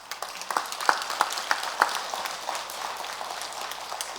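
Scattered hand claps from a prayer leader signal the end of an overnight Buddhist temple prayer session, a handful of sharp, moderately faint claps spread over a few seconds against a quiet room.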